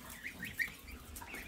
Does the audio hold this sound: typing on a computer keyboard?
no